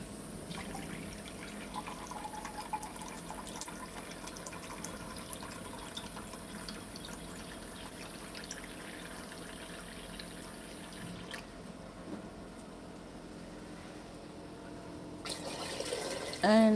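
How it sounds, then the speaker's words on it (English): Water is poured steadily from a cup into a pot while jollof rice is being made, a continuous splashing fill that runs for several seconds, stops, and picks up again briefly near the end. "So add in 4 cups of water."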